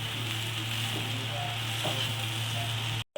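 Flattened rice pulao, Bengali-style chire, fries in a pan while being stirred, a continuous close sizzle over a low steady hum with soft scraping touches, cutting off abruptly at the end.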